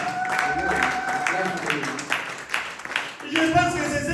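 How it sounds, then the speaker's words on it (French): An audience claps together during a church service, a steady wash of applause that runs throughout, with a voice and some tonal sound mixed underneath. "Applaudissez pour le Seigneur Jésus."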